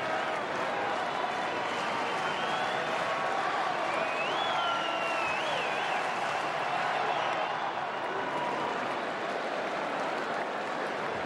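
A baseball crowd at a Giants at Cubs game, August 2019, roars and cheers steadily for the whole stretch, a dense, continuous wash of voices and clapping with a few whistles rising above it.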